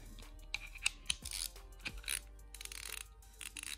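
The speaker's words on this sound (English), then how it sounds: "This is a locking ratchet." A locking ratchet from a Sonic Tools sample kit clicks in irregular bursts of sharp, dry ratcheting, close up and fairly quiet, with pauses between turns.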